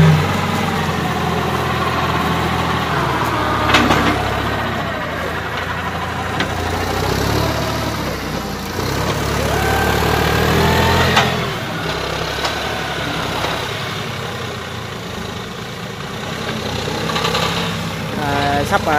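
A John Deere 5065e tractor with a grab loader idles and works steadily while loading corn stalks onto a Belarus 825 tractor trailer, a continuous low engine rumble with rustling and clanking of stalks throughout, moderately loud outdoors.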